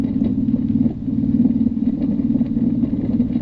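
A motorcycle engine runs steadily during a Christmas bike ride, a close, continuous low drone that rises and dips slightly with the throttle.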